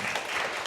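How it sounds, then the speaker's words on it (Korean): Audience applause of thanks at a Korean-language Thursday church service, a dense steady wash of many hands clapping at once, brief and moderately loud with no voices over it. "우리 김가병 훈사님께 큰 감사의 박수를 보내드리겠습니다"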